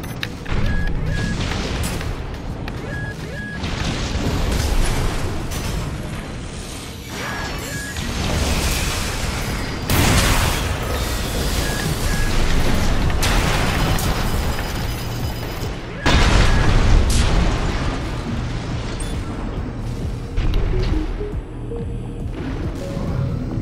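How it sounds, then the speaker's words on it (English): Explosive rounds from an Armored Core 6 mech's left-shoulder grenade cannon, heavy booms layered with mechanical clanks and whooshes in a loud, dense, continuous battle din with no voices. "The left shoulder grenade cannon on this AC fires explosive rounds that cause area damage"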